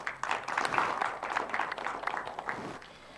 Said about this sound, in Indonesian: Boleh tepuk tangan kembali?